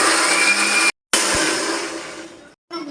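A kitchen mixer grinder whirring loudly as it grinds masala spices for a Bengali chicken curry, a steady high motor roar that cuts out briefly twice and restarts, with no talk over it.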